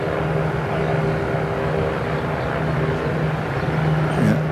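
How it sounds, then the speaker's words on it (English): An Airbus A350-900 XWB airliner on final approach at Toulouse during its first flight, heard as a steady, broad jet-engine roar with a low hum, constant and moderately loud. "Aircraft looking very stable on its final approach."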